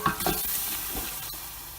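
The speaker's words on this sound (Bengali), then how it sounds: "এখন এই মশলাটা খুব ভালো করে কষাবো।" Spice paste (masala) for a rohu fish and potato curry stir-fried in hot oil: a close, steady sizzle broken by quick spatula scrapes near the start, continuing alone without voices.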